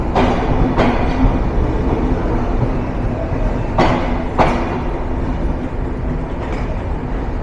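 A passenger train running on rails between Dhaka and Rajshahi, heard from inside or close by: a steady loud rumble of wheels and carriages with periodic rhythmic clacks of rail joints, no talk.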